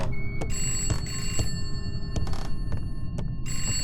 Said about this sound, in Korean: 전화가 와 전화가 2층에 있어?